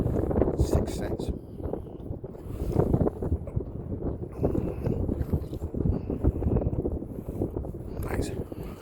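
Strong wind buffets a microphone on choppy water during a bass fishing outing from a boat, with loud, gusty rumbling bursts rising and falling throughout and brief voices in between.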